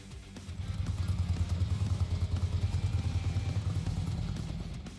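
A Harley-Davidson Road King motorcycle engine idles and rumbles close by, its deep, loping pulses thumping in a steady uneven rhythm throughout.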